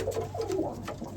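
Soft, low cooing from a racing pigeon, likely a hen, close by in a loft, a few murmuring coos running continuously without pause.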